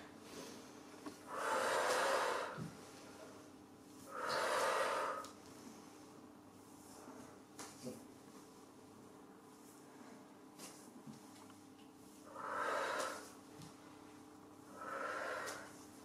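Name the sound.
breathing in through nose, out through mouth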